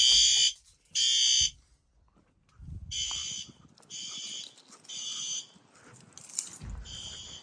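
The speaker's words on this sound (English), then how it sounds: "the fire alarms have gone off" A fire alarm sounds in loud, regular pulsed bursts during a system test, separated by short gaps with faint rustling and a dog-like bark.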